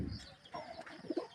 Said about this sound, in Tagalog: Dito yung mga kalapati natin mga kalapatid.